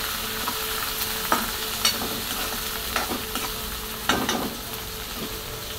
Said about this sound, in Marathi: असं कांदा मी सगळं परतून घेणार आहे आता इथे